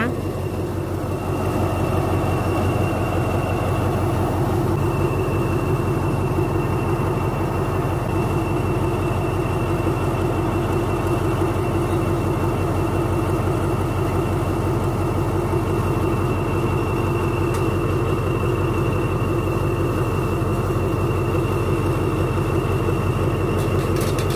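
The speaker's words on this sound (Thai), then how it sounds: "เครื่อง TMU ค่ะ กำลังจะออกจากสถานีบางซื่อค่ะ ไปหนองคาย" A TMU diesel locomotive pulling out of Bang Sue station in Bangkok toward Nong Khai, its engine a loud, steady low rumble and drone that holds throughout.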